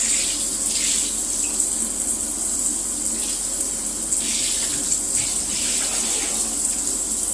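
Water runs from a shower in a bathroom while Dyson vacuum parts are rinsed under it, a continuous close hiss and splash with brief surges as the flow hits the parts, no speech.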